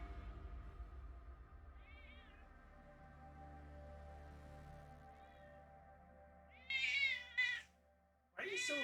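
A house cat meows loudly and close, several drawn-out wavering cries near the end, over a steady hum of game music playing in the room.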